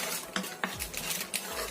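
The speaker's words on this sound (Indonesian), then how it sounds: "Kita aduk rata." A utensil scrapes and clinks against a pan while stirring a rice and flour mixture for a sweet snack, with a few quick metallic taps over soft scraping in a short, close burst.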